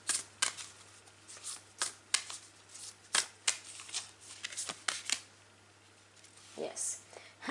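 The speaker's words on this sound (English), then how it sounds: "So here is the first oracle card that I will shuffle." Oracle cards being shuffled in quick, crisp riffling bursts, repeated several times with short pauses between, close and fairly quiet.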